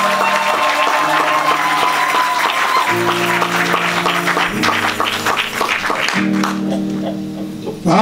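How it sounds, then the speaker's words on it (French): Wedding guests in a church applaud the newly married couple, sustained clapping mixed with steady organ or keyboard chords beneath, fairly loud and close. "On peut donner des acclamations pour ces deux jeunes gens."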